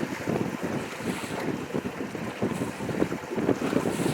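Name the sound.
boat cutting through choppy lake waves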